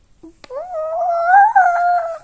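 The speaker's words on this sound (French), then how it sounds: "Il leva sa trompe et hurla à tue-tête." An elephant lifts its trunk and trumpets loudly in a single long, wavering blare that rises and holds for about two seconds, close and alone, after a brief click.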